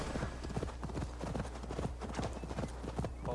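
Horse hooves clip-clopping in Assassin's Creed Valhalla, a rapid, steady galloping rhythm heard close under a constant low background hum.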